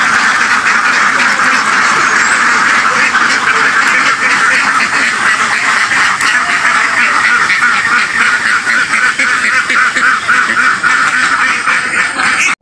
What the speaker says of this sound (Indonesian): kayak ginilah itik-itik kalau sudah mau keluar dari kandang mau cari makanan